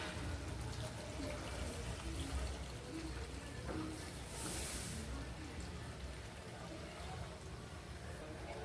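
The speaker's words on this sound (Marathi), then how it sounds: "मी इथे 1 तांब्या पाणी ॲड करणार आहे." Steady running water splashes continuously as a tumblerful is poured into a cooking pot for crab curry, with a constant broad hiss throughout.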